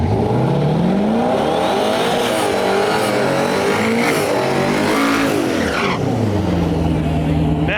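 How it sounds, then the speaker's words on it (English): A twin-turbo LS-swapped Jetta drag car launches and accelerates at a dragway, engine roaring through rising pitch sweeps with tire squeal, loud and close amid track noise. "Man, this Jetta sounds good."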